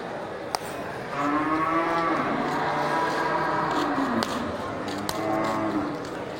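Small Aceh cattle moo in long, low drawn-out calls, one after another, with faint clicks and ambient farm noise in between.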